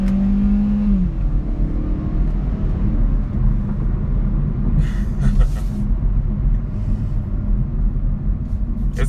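A 2018 Hyundai Elantra Sport with a 1.6 liter turbo engine downshifting: a continuous low engine rumble and whir that holds steady and near, with a brief tonal blip early on and faint talk in the background.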